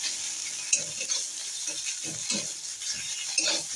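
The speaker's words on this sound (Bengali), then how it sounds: "এখন বাটাটাকে এবার ভাজছি কালো জিরে দিয়ে" Bottle gourd leaf paste frying with nigella seeds in a pan: a steady sizzle and hiss, broken by several scraping stirs of a spatula, close and moderately loud, with no one talking.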